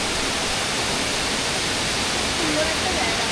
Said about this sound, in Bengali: বিশাল উঁচু থেকে জলটা পড়ছে